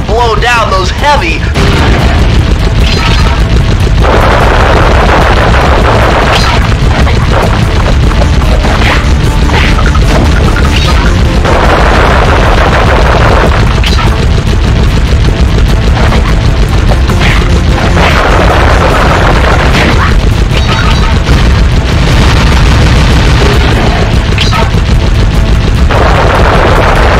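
A cannon in the Sly Cooper video game fires and blasts objects apart, with loud repeated booms and crashing explosions over a dense, continuous wall of game noise.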